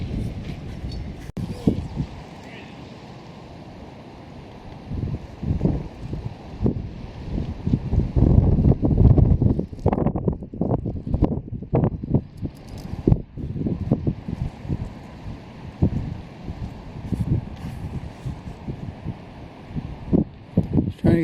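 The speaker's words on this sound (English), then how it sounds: "It's still kind of windy, but not like it was." Gusty wind blowing across open water during a canoe trip, a steady broadband rush with louder buffeting gusts and rustling, close to the microphone and continuous throughout.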